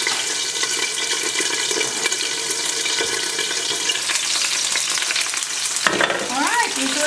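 Piccata sauce with chicken breasts simmering and sizzling in a pan, a loud, dense, continuous crackle that holds steady, with a brief clatter of cookware near the end and no voices.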